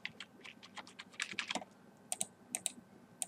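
Rapid typing on a computer keyboard while working in WordPress, with irregular clusters of crisp, close keystrokes, brief pauses between bursts, and no voices.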